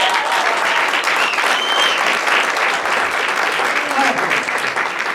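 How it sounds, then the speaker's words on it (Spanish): A church congregation applauds the pastor's mother with a steady, full wash of clapping from many hands that holds at an even level, with voices faintly mixed in. "Yo veo a mi madre que está acá y quiero que le des un fuerte aplauso."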